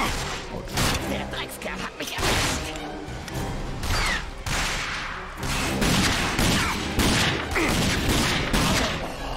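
Pistol shots fired in the post-apocalyptic shooter game RAGE, several sharp cracks spread across the stretch, set against dense game sound and music, with a voice speaking over part of it.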